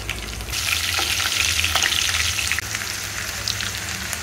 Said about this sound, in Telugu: చిల్లీ బాగా వేగాలి.